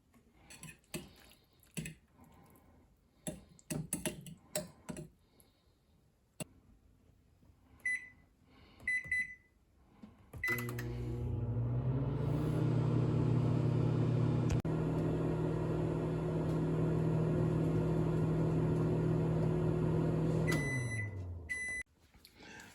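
A steady low hum with a bright tonal drone runs for about ten seconds after some clattering kitchen sounds, then stops abruptly: a microwave oven heating sloppy joe mix nearby.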